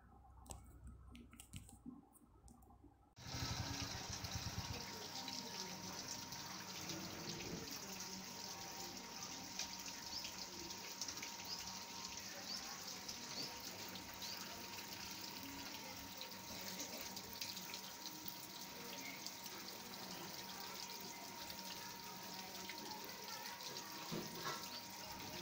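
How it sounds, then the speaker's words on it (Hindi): Water pumped by a submersible pump spills steadily onto a village road beside a government India Mark hand pump, a continuous rushing flow with faint clicking that starts abruptly after a quiet opening and runs on unchanged for over twenty seconds. "समरसेबल को लाइट आने पर चला दिया जाता है, पानी सड़क पर बहता रहता है"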